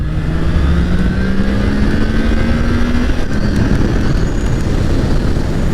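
A Triumph Trident motorcycle engine drones loudly and steadily while riding at night, with a rising tone partway through and heavy rushing wind throughout.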